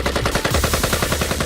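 Gunshots in the visual novel I/O, a loud rapid burst of automatic fire with evenly spaced shots rattling continuously.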